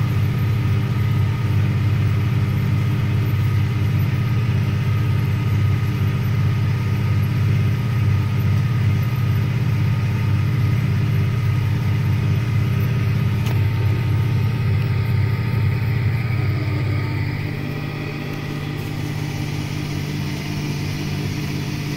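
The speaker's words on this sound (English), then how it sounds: "I'm just checking to see how this tractor handles the disc." A John Deere 7200R tractor pulling a disc runs with a steady, close, low engine drone, constant throughout and easing slightly lower near the end, with no talking.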